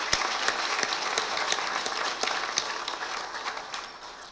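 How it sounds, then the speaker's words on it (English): Applause at the Southern California PGA presidents dinner, a golf association awards event: a crowd claps steadily in a banquet room, loud and full, fading slightly at the end. "Big round of applause for all of these distinguished folks"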